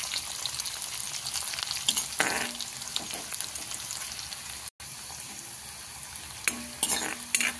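Onion frying in a pan while being stirred, a steady close sizzle with occasional scraping stir strokes and a brief dropout, no talk.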